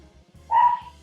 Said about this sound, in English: I do not know why my dog is barking.